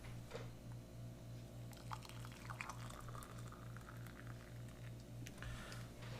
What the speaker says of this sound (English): let's go ahead and blast some boiling water in that.